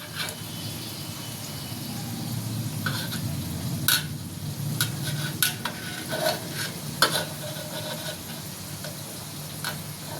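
Food fries gently in a pan over low heat, with a low continuous sizzle and repeated sharp clinks and scrapes of a utensil stirring the pieces at close range.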